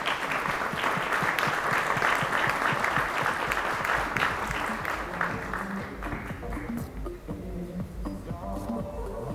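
Audience applause for panel participants at a working session on planning and preserving historic city centers; a sustained, dense round of clapping that thins and fades toward the end, with no talk over it.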